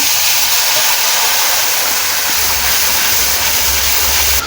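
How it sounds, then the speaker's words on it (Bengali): Dried red chilli and spices sizzle in hot oil with a loud, continuous, hissing roar that holds steady throughout, with a low rumble underneath. "তেলটা গরম করে নিয়েছি, এবার এতে একটা শুকনো লঙ্কা দিয়ে দেবো"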